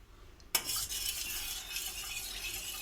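Junnu milk made from half a litre of milk and jaggery being stirred steadily in a pot, a continuous soft scraping swish that starts abruptly after a brief quiet moment and carries on at an even level.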